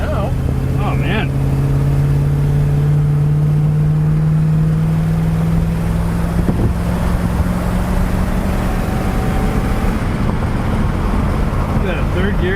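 A 1966 Ford Thunderbird cruising in third gear over bumpy road, a steady engine drone with a sustained low tone and road rumble, while a person talks over it.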